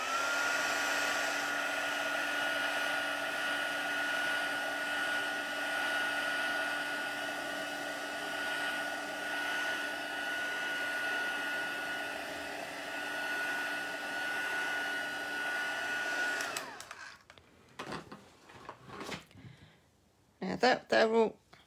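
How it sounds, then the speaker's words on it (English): Craft heat tool drying ink on a card project gives a steady whirring blast for about seventeen seconds, then cuts off, leaving short quiet rustles and handling noises. "have your heat tool handy, and just to give it a quick blast"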